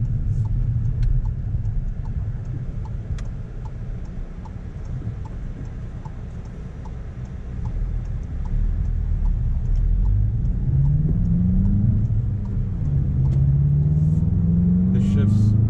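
Volkswagen Jetta GLI engine and road rumble from inside the cabin while driving, with a rise in pitch around the middle as the car accelerates through a gear change, steady and fairly loud throughout.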